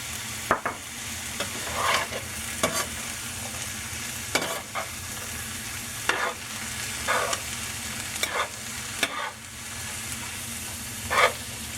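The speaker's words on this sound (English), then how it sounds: "Now that I got the oil on most of the onions and peppers, I can go ahead and mix everything together" Onions and peppers frying in oil in a pan, a steady sizzle with repeated scraping strokes of a utensil stirring them, close and moderately loud, no talking.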